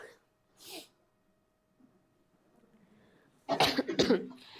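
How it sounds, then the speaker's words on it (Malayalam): A teacher with a cold coughs during a live chemistry class: a short cough early on, then a cluster of harsh, close coughs near the end amid quiet room noise. "ജസ്റ്റ് ജലദോഷത്തിന്റെ ചുമ അങ്ങനത്തെ കാര്യങ്ങളുണ്ട്"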